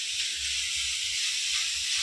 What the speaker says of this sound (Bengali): এই যে কাকিমা এদিকে সব ভাজাভাজি করছে।